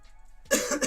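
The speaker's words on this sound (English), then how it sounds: "that damn cough killing me" A single sharp cough bursts out close to the microphone after a near-silent pause.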